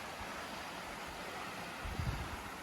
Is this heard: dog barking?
no